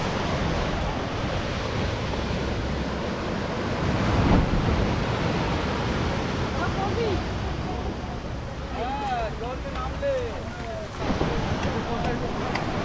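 Ocean waves at high tide at a beach in Mandarmani make a continuous broadband roar of surf that mixes with wind buffeting the microphone, and people talk faintly over it.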